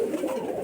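A local Giribaz pigeon from Rajshahi gives a brief, soft, close coo, low and throaty. No one talks.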